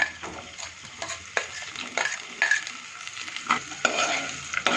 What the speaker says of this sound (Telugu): ఇప్పుడు ఇందులో క్యారెట్ ముక్కలు వేస్తున్నాను, అలాగే ఆలు ముక్కలు